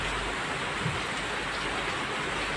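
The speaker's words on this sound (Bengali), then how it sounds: "বৃষ্টির যে একটা শব্দ সেটা হয়তো অনেকেই শুনে বুঝতে পারছেন।" Rain falls steadily outside a balcony, making a dense, even hiss that stays loud and unbroken throughout with no voices.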